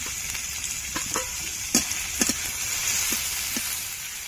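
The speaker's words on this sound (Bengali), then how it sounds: "পেঁয়াজের টমেটোটা ভালো করে ভেজে নেব।" Chopped onion, tomato and minced chicken fry in a pan for crispy chicken cutlets, with a steady hiss of frying and scattered light stirring clicks, with no talk.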